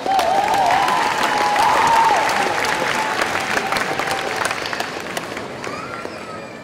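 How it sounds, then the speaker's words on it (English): Applause rings out for the college president at a 2016 commencement ceremony, a loud, dense round of clapping from the crowd that slowly thins toward the end while a faint whistle rises over it. "Let's give your president another round of applause."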